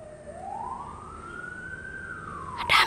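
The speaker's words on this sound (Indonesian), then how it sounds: "Ada suara mobil ambulan." An ambulance siren wails at night in Indonesia, one long tone sliding up and then slowly back down, steady and fairly close, before a short sharp burst of noise at the end.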